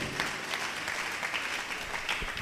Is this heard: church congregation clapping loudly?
yes